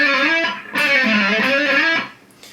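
Electric guitar at full gain plays a rapid ascending legato lick up to speed, a loud continuous run of smooth hammered and slid notes with heavy distortion, ringing out alone.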